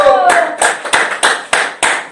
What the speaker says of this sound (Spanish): Ahí está el aplauso